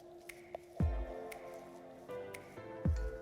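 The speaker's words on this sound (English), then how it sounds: "wet your hands again, and then continue on kneading" Wet, squishy keto bread dough, gluten free, is kneaded by hand, giving a few soft, moist squelches and slaps spaced out against a quiet background.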